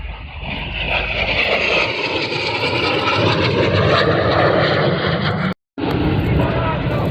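Display team jets of the Diamond 9 formation fly over the RAF Cosford airshow, a loud, steady broadband engine roar filling the clip with a brief cut-out near the end.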